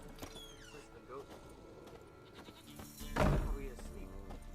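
Goat bleating inside The Witcher 3 Wild Hunt game world, a single loud wavering bleat rising near the end over ambient game sound and music, with voices talking earlier.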